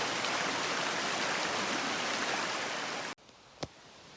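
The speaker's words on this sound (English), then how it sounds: "This is the creek that comes out of La Muir into Hogan." A creek rushes out of La Muir toward Hogan Lake, a loud continuous broadband wash of flowing water up close, cutting off abruptly near the end to near quiet with a single faint click.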